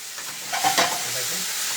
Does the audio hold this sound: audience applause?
no